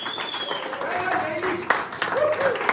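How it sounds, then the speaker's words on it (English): Scattered clapping from a talent show audience, with people talking and calling out over it throughout the short moment. "So round of applause for them."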